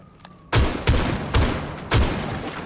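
Four sharp muffled suppressed sniper rifle shots in the video game Rainbow Six Siege, spaced roughly half a second apart, each a quick thud with a short tail, following a brief quiet moment.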